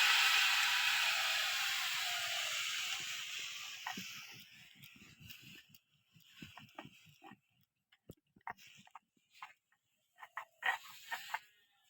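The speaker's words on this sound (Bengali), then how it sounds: "আমি এদিকে জিরেটা বেটে দিচ্ছি" Cumin ground by hand for a fish curry with taro: a steady broadband scraping for several seconds that slowly fades, then gives way to scattered, irregular clicks and knocks of the grinding, close and fairly quiet.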